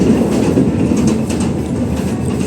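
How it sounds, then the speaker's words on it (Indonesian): An Argo Bromo Anggrek train rushing past in the opposite direction, heard from inside a moving passenger train near Jatibarang, a loud continuous rumble of wheels on rails with rhythmic clatter. "kita berpapasan dengan kereta api Argo Bromo Anggrek ya kan"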